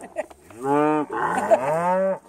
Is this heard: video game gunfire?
no